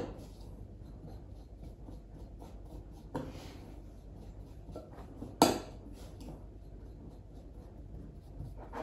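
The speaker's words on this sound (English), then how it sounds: "Kind of use the back of my spoon to mash it in there so you get all that flour and the cocoa powder incorporated." Cookie dough of flour and cocoa powder is mashed and scraped with a metal spoon against a bowl: soft irregular scraping and light taps, with a couple of sharper clinks, close and quiet.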